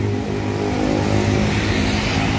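A Damri bus's engine rumbles steadily nearby as it passes in Indonesia, a continuous low drone with broadband road noise.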